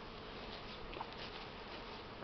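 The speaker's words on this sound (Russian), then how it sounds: "А потом уже попрет основная масса пчел." A strong honeybee colony's swarm buzzes as it begins leaving the hive, a continuous, fairly faint droning hum of many bees with no talk.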